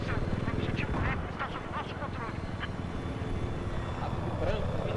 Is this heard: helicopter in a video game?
yes